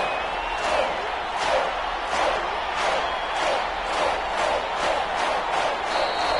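Crowd in an American football video game roaring before a big third down, a continuous stadium din swelling in regular surges, with commentary voices faintly woven underneath.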